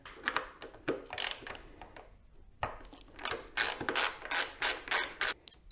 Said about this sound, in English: You have two 4mm bolts that you'll remove here and here.